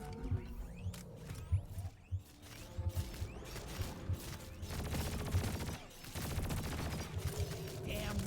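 Shredder drones in Deep Rock Galactic fire in dense, rapid bursts of crackling gunfire, layered with mechanical whirs and metallic clatter from ongoing combat, filling the whole stretch at a fairly steady level.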